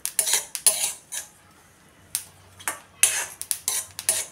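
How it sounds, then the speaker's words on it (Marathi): Fennel seeds dry-roasting in a hot pan with cardamom, cloves and licorice root sticks, giving sharp, close crackles and clinks in irregular clusters as they are stirred, with quieter pauses between bursts and no voices. "बडीशेपचा पण चटचट आवाज यायला लागलेला आहे"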